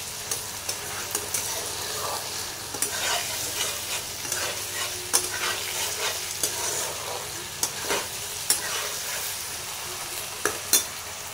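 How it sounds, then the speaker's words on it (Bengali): Potatoes and ground spice paste stir-fried in a pan for a pointed gourd curry, a steady sizzle with repeated scraping and stirring clicks from a spatula throughout, close by and with no talk. "এখন আলু আর এই মশলা ভালো করে কষাতে থাকবো"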